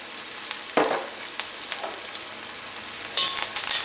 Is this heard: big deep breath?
no